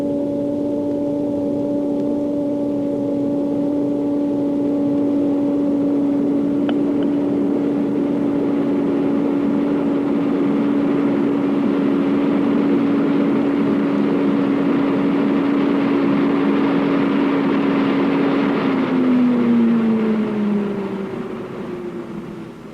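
Airflow in a wind tunnel rises steadily toward about 150 mph as a loud, continuous roar and hum with a steady tonal whine, then the pitch slides down near the end, with no talking.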